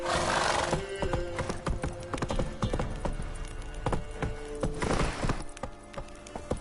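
Geralt's horse Roach gallops in a Witcher video game, rapid hoofbeats pounding close and loud, broken by a whinny or two, with faint speech in places.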